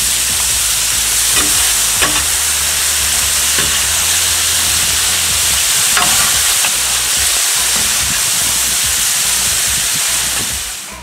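Taco meat frying in melted lard on a street-taco griddle gives a loud, steady, close sizzle and hiss throughout, broken by faint scrapes and stirring clicks, with no talking.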